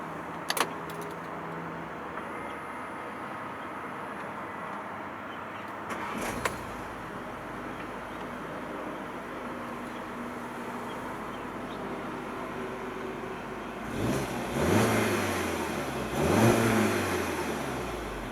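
Keys jingle faintly, then after a long quiet stretch a 2013 Volkswagen Golf GTI (Mk7) engine cranks and catches, revving up briefly twice before settling.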